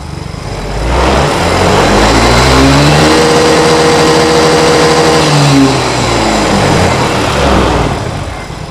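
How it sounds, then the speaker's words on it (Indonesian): A Honda Mio M3 scooter engine with blue core technology revved by throttle, rising from a steady tone to a sustained loud rev and easing back down, close up with no talk. "Oke, sekarang kita coba gas."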